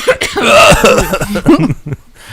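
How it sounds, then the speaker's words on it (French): A person with a week-long cough coughs several times in a quick, harsh burst, close and loud, then trails off with a short throaty sound. "Moi j'ai toussé, ça fait une semaine que je tousse"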